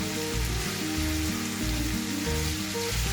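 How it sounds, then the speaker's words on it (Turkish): Vegetables with eggplant sautéing in a pot as they are stirred, a steady broadband sizzle with low, rhythmic scraping and stirring pulses throughout, fairly loud and close with no talk. "2-3 dakika kadar karıştırarak kavuracağım"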